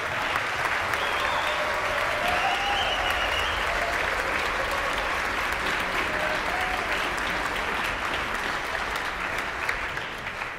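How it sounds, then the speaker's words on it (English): An audience at a Rising Stars event at Edina High School gives sustained, even applause, with dense clapping filling the whole stretch and no voices on top. "I think a special round of applause needs to go to Peter and Serene Simon"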